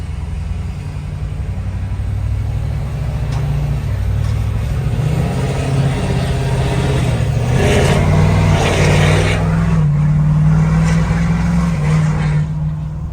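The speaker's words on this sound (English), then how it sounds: "you guys might want to hear the exhaust" Tuned 2020 Ford 6.7 Powerstroke diesel truck with a 5-inch exhaust, towing a gooseneck dump trailer, rumbles steadily as it drives past buildings, a deep loud drone that swells and rises in pitch under acceleration, with no talk.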